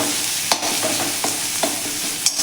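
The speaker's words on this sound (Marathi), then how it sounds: "हे व्यवस्थित असं परतून घ्यायचं आहे आपल्याला।" Chili paste mixture for veg cheese cutlets being sautéed in a pan, with a steady frying hiss and a few distinct scraping strokes of a spatula, close and alone.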